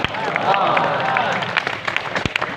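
Audience clapping at a religious lecture by a preacher, a dense, steady wash of many hands at moderate loudness, with crowd murmur and a voice breaking through near the end.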